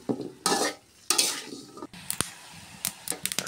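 Cauliflower bhaji with onion, green chili and salt in oil in a kadai gives soft bursts of sizzling, broken by clinks and scrapes of a spoon against the pan.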